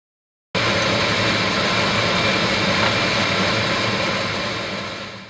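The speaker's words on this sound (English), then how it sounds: "use the air blower to blow out the hydrogen bromide smoke in the funnel" Air blower clearing hydrogen bromide smoke from a lab funnel, switching on abruptly into a loud, steady broadband rush that holds for several seconds and then begins to fade, with no speech.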